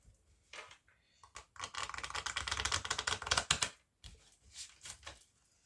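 Tarot cards shuffled and riffled by hand, a close, dense run of papery flutters and rapid soft slaps lasting a couple of seconds, bracketed by a few lighter taps and card handling noises, with no voice over it.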